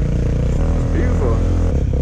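Yamaha WR125R 125cc motorcycle engine running steadily on a green lane, loud and close, with a vehicle droning beneath voices talking over it.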